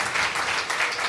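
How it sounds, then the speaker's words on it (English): An audience applauds a cooperative startup consortium at a live awards ceremony, a dense, steady wash of many hands clapping throughout at moderate volume. "Let's give a good round of applause to this consortium"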